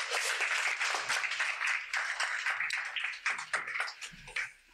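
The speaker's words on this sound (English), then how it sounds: "Please give them a round of applause." Applause for the panelists closes a panel discussion on coalition politics. It is a steady patter of many hands, moderately close, that thins out and fades near the end.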